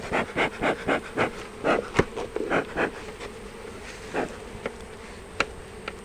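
Robber bees and honeybees buzz around a beehive entrance, with close, pulsing insect drones rising and fading in quick succession, then sparser passes with short clicks.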